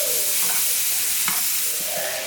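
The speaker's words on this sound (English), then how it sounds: "I have some butter, and I'm just going to swivel that around and let that melt" Butter melts and sizzles with paprika shrimp in a pan, giving a loud, continuous hiss with faint scraping stirs and no voices.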